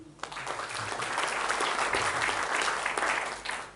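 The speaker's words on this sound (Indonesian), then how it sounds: "Yuk tepuk tangan." Steady applause from a church congregation, many hands clapping densely and evenly at moderate loudness for nearly four seconds with no speech over it.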